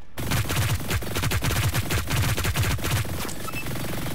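Rapid, rhythmic bursts from a minigun-style hex fire weapon in the shooter game Hyper Scape, loud and continuous, with a steady rattling cadence of closely spaced shots throughout.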